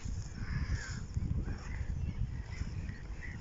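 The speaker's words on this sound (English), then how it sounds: "those birds are really noisy." Noisy birds at Netherfield Lagoons give a rough, continuous jumble of harsh calls, fairly faint and a little distant, mixed with outdoor rustle and no voices.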